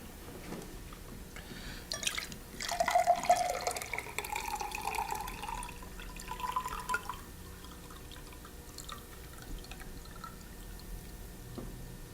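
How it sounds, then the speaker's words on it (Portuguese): Dirty water is poured from a container into a glass, leaving the soil settled at the bottom undisturbed; a soft liquid trickle and splash rise for several seconds mid-clip with faint drips, close and fairly quiet, with no talking. "Será que você conseguiria só tirar a água suja, passar por esse copo, mas sem mexer na terra que tá lá no fundo?"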